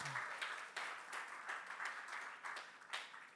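A convention crowd at Social Media Convention 2023 claps in a quiet, uneven burst, with scattered hand claps in loose rhythm at a distance.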